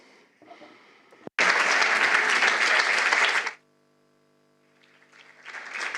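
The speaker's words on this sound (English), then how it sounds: "Round of applause." A conference audience gives a loud, dense round of applause that starts abruptly, holds steady for about two seconds and then stops, with quiet murmuring before it and clapping building again afterward.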